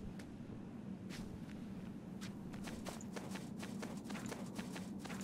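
Horse hooves clip-clop at a walking pace in the video game Death's Gambit, a quiet repeating rhythm over a low background hum, with no talking.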